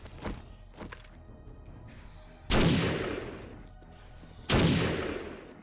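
Gunfire in the zombie survival game 7 Days to Die, with two loud, heavy booming shots about two seconds apart, each trailing off into a long echo, after a quieter earlier pop.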